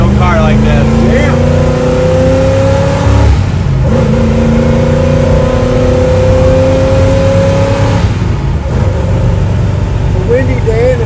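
A 1963 Chevrolet Impala's small-block 350 V8 engine drones steadily while driving on a windy day, rising in pitch through the gears, with wind noise and occasional talking inside the car.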